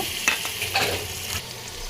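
Onion frying with garlic paste in a pan, a brief burst of close, steady sizzling broken by a few spoon scrapes and taps, with no talking.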